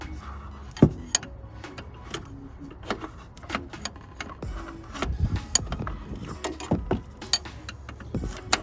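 Open-end 15/16 wrench breaking loose a power steering banjo bolt in the cramped engine bay of a Nissan Titan, with scattered close metallic clicks, taps and clanks at irregular intervals and no talking.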